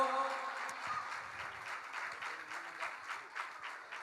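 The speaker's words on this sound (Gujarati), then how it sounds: "તાળીઓના નાદથી કલાકારને વધાવજો" An audience at a Janmashtami festival gathering claps to welcome a performer, a sustained patter of many hands, moderately loud and fairly even throughout.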